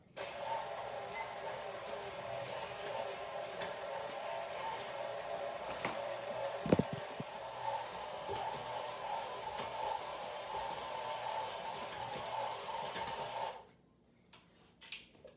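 A stand mixer kneads pizza dough with a dough hook on its lowest setting, a steady motor whir with faint rhythmic knocking that runs unbroken and close before cutting out near the end.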